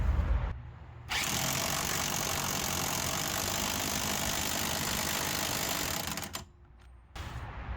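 A power tool runs steadily in a long burst while tightening bolts during wheel work on a 1988 Honda Civic Wagon, a loud continuous whine that drops briefly and then restarts.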